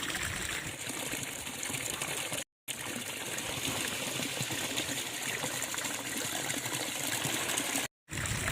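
Natural spring water flows steadily and close, a continuous bright trickling and gushing stream with two brief dropouts, no voices.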